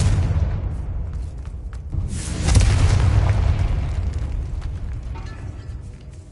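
A Confringo blasting spell going off in a decayed catacomb in Hogwarts Legacy, a loud booming explosion about midway over steady low rumble, then a long fading roar.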